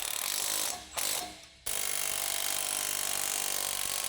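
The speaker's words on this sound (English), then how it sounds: "Use the same tool to tighten the lower nut." A ratchet wrench tightens the lower nut of a shock absorber on a Jeep Wrangler JK, with dense, rapid clicking that runs steadily and close up, broken by two brief pauses early on.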